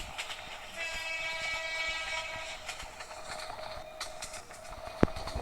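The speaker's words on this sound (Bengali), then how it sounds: "তো আমাদের ট্রেন এখন চলছে" A train in the Train Simulator Bangladesh game rolls along with a steady rumbling clatter and a sustained horn tone, ending with a sharp click.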